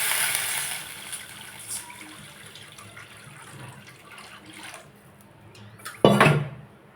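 Water is poured into a pan while cooking semiya, a gushing splash under a steady sizzle, ending in a louder burst of pouring and clatter near the close.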